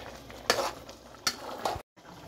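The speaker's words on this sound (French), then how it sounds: "la sauce graine est en train de cuire" A pot of palm nut sauce cooking, with a few sharp clinks and scrapes of a utensil against the pot over a soft, steady background hiss, then a brief silence.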